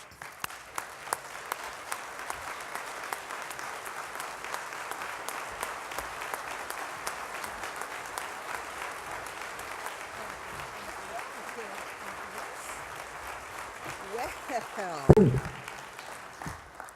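An audience bursts into sustained, even applause welcoming the Attorney General, many hands clapping steadily for over a dozen seconds before a voice comes in near the end.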